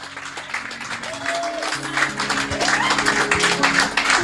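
A church congregation in Le Mans applauding, scattered clapping that builds into a dense, fairly loud patter under music and voices.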